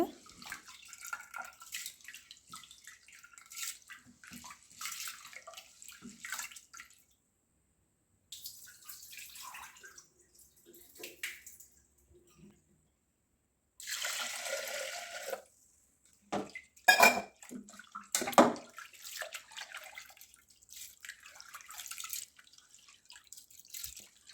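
Kuchchilakki boiled rice is washed by hand in water in a pot, giving intermittent sloshing, swishing and dripping bursts separated by short pauses, close and moderately quiet.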